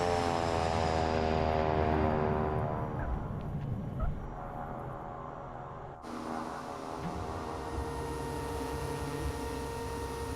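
A Sky Courier propeller plane in Microsoft Flight Simulator 2024, parked near a control tower, gives a loud, steady droning engine hum full of layered tones, with a brief dip and shift in character partway through and no talking.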